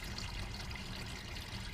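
Water pouring into the hot well of a steam engine system, a steady, even rush of trickling liquid heard close and alone throughout.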